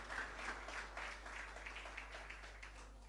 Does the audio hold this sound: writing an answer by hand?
no